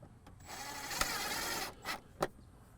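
A short screw is driven into the plastic of a box truck dashboard, heard as a close whirring burst from a driver followed by a few short squeaky bursts, with no speech.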